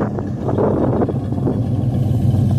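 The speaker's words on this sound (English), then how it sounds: "you can clearly hear it's a high compression engine with performance characteristics" A 1967 Dodge Dart GT's high-compression 273 V8 with a four-barrel carburetor idles and rumbles close by, with a deep, throbbing low-end pulse and slight rises in revs.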